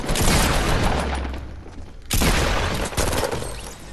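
Rapid bursts of gunfire in a multiplayer shooter video game, loud and dense with echoing booms, cutting out briefly midway before resuming.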